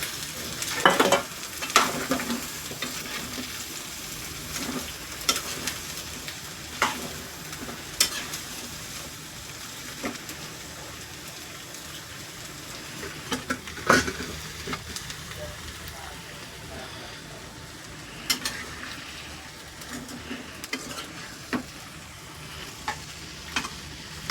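Pieces of ivy gourd fry in a pan while being stirred, giving a steady sizzle with repeated scraping and clinking strokes throughout, up close, with a voice speaking at times over the cooking.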